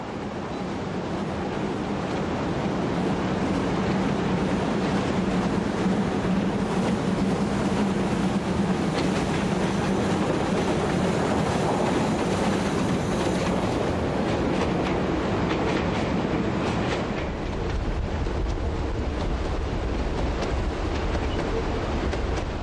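The century-old locomotive 403 runs on a metre-gauge line near Tournon, a loud continuous rumble and rhythmic clatter of the train passing close, with rolling noise throughout.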